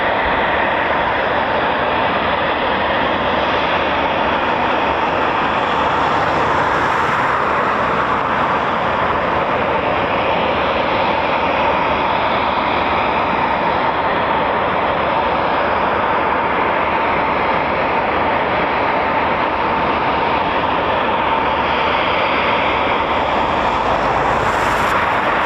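Eurofighter Typhoon FGR4 jets taxi at an RAF station, a loud, steady engine roar and whine holding throughout with no talking.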